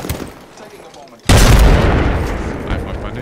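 A grenade goes off in a shooter game with a sudden loud, close boom that rumbles and slowly fades. A quieter stretch of game sound comes before it.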